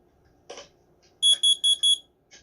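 A smoke and carbon monoxide alarm, made in 2007, under test gives four loud, evenly spaced high-pitched beeps, with a few short clicks before and after.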